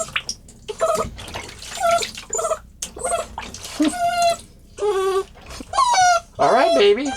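An abandoned puppy in a tub whimpers and yelps in repeated high cries while water splashes over her, close and loud, with a person talking softly between the cries.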